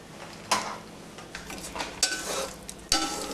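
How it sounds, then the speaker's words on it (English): Tofu and vegan sausage fry in a pan while being stirred until golden, with a few sharp utensil scrapes and clinks over a soft, steady sizzle, close up and with no talking. "Just stir it until it's golden, yeah?"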